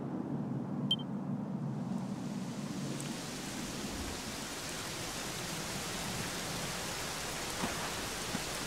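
Steady, dense rain in the video game Dragon Quest XI hissing continuously throughout, a broad wash of noise with no voices, even and unbroken from start to finish.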